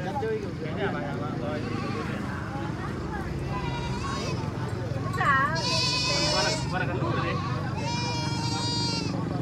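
Goats bleating at a busy goat market, several loud wavering calls rising around the middle and end over continuous crowd chatter and speech nearby.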